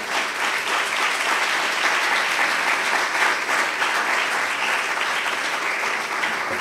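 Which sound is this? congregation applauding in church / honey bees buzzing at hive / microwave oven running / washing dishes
congregation applauding in church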